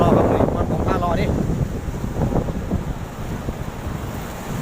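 Strong sea waves and wind at the shore in evening, a dense roaring wash of surf with gusty wind buffeting the microphone, continuous throughout, with someone speaking over it.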